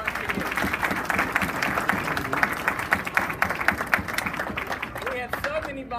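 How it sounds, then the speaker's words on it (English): A chapter meeting audience of about 200 people applauds its volunteers, a sustained round of clapping that holds steady and then thins toward the end, with voices and murmurs mixed in beneath it. "Please raise your hand and give a round of applause for our volunteers."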